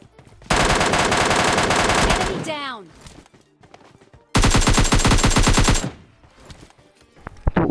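Two long bursts of sustained automatic AKM fire in PUBG Mobile Lite, loud and close, with a brief lull and footsteps between them and quieter clatter afterward.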